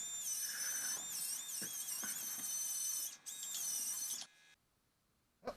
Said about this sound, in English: I'm just grinding, looking for the point that the weld just feathers into the sheet metal around it